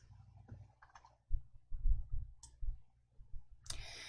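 A computer mouse clicks quietly at a desk while working in Excel, a few soft irregular clicks and dull taps, close and faint with no talking.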